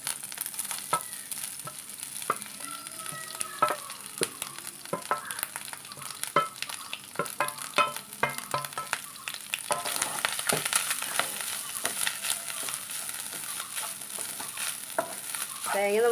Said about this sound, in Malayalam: നമുക്കിനി തേങ്ങ ചേർത്തൊന്ന് വറുത്തെടുക്കാം.